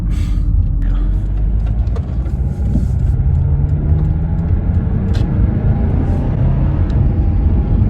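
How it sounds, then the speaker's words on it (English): Subaru WRX with a turbocharged engine driving over speed bumps, a steady loud low engine and road rumble with dull thumps, close and continuous throughout. "These are some ridiculous speed bumps."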